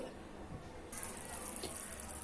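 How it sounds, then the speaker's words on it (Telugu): A quarter cup of water is poured into sugar in a pan to start syrup for khaja sweets. A soft, faint, steady pouring hiss begins about a second in and keeps going to the end. "ఈ పంచదారలోకి ఒక పావు కప్పు వాటర్ పోసుకుని పాకం పట్టుకోవాలి"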